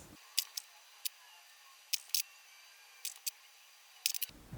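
Sharp snipping clicks of duckbill scissors trimming a fabric seam, coming in small clusters of two or three, close up against a quiet background.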